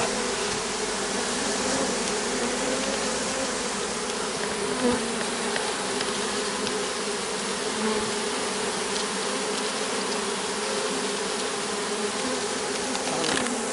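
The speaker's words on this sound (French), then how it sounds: "il y a énormément d'abeilles qui s'étaient mis dans le fond" Dense, steady buzzing of many bees packed inside a bin fills the whole stretch, close and continuous without a break.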